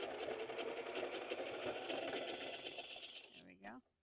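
Home sewing machine stitching steadily with a dense whirring drone for about three seconds, then a brief reverse pass before it stops; a voice speaks near the end.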